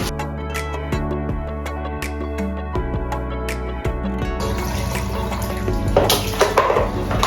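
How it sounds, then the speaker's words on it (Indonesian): About five liters of clean water pour into a jerrycan in a steady, close stream whose tone shifts as the container fills. The flow grows splashier partway through. "Kurang lebih air bersih 5 liter kita tuangkan ke dalam ini"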